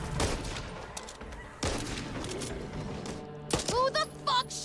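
Gunfire from the video game Back 4 Blood, rapid bursts of shots with sharp clustered cracks that rise and fall over several seconds, loud and close, followed by brief electronic game tones.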